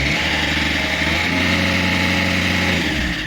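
A Ford 1.6 engine with an EAC fail fault revs up from idle, its steady loud drone rising in pitch partway through and holding, as if pressing against a rev limiter, with no voices.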